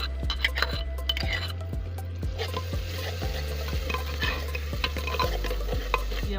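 Onions fried with garlic and green chili paste in a village-style pot, sizzling steadily at close range while a spoon stirs and scrapes the pan in regular strokes, with the occasional clink of metal.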